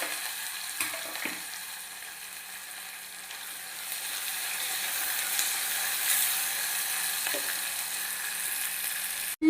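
Onion and green chili pieces dropped into hot tempering oil sizzle with a steady, bright hiss throughout, with a few soft clinks of a utensil against the pan.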